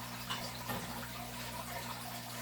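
Water poured into an axolotl tank gives a faint, steady wash of trickling and splashing over a low electrical hum, continuous for a couple of seconds.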